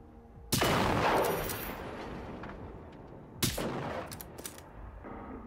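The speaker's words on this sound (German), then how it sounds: "das war aber mal ein Sniper-Schuss gerade" Sniper rifle shot in the video game Generation Zero: a sharp, loud gunshot followed by a long rumbling tail, then a second blast with smaller cracks and echoes trailing off at a distance.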